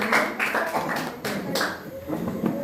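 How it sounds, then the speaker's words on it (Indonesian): Group one gets a round of applause: a dense patter of many hands clapping at a school lesson presentation, mixed with people talking over it. "Tepuk tangan yang meriah untuk kelompok satu ini."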